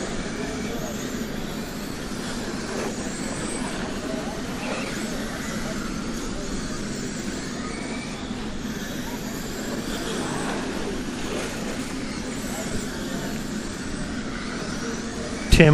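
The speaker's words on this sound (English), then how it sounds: "It's Tim Rothenburger leading the street stock class at the shootout" Radio-controlled street stock cars racing around a track at an RC shootout, a continuous whining motor drone with no breaks, heard under talk.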